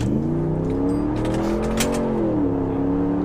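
A very large truck accelerating on the road, with a steady loud engine drone whose pitch rises and shifts as it gains speed, heard from inside the vehicle without talk.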